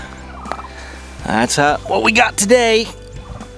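Turkeys gobble loudly in quick warbling bursts close by on a homestead during concrete block corner work, with someone talking briefly before and between the calls.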